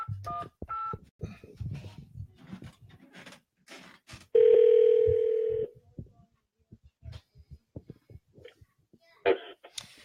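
A ringback tone sounds loudly for a little over a second while an outgoing call connects during a live radio broadcast, set between stretches of quiet voices, breaths and short dial-like tones.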